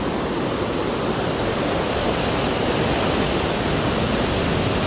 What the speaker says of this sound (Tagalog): Ayan, napakalakas ng tubig,